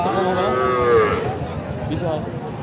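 A heifer calf at a cattle market in Joypurhat lets out one short, close moo that fades after about a second, followed by quieter background noise.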